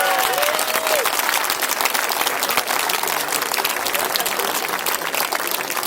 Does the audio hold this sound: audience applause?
yes